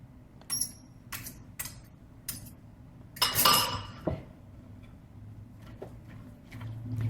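Spinach pie filling stirred with utensils in a container: scattered clinks and scrapes of metal on the dish, a louder clattering burst midway, all close and moderately quiet with no voice.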